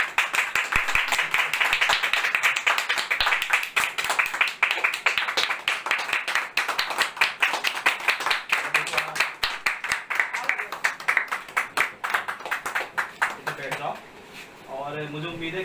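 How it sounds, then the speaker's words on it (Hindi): Audience clapping at an award ceremony honouring a four-year-old drawing competition winner, a lively rhythmic round of applause from a nearby crowd that runs strongly throughout before thinning out at the end. "ताली बजाओ।"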